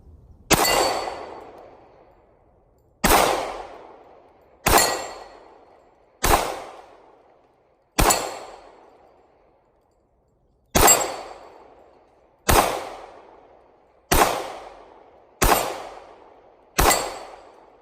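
Ten sharp pistol shots from a Smith & Wesson M&P 45c Gen 1, fired one at a time at uneven intervals of one to three seconds, each loud close crack trailing off in a brief outdoor echo, with no talking.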